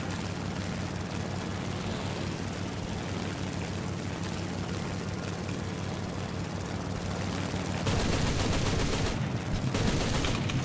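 Aircraft machine guns chatter in War Thunder plane combat under a constant droning engine roar, with a louder burst of rapid fire near the end.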